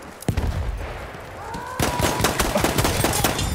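Gunfire rattles in a Battlefield 1 World War One battle, with a single loud shot early on and then dense, overlapping bursts that grow busier toward the end, all over a constant noisy background of combat.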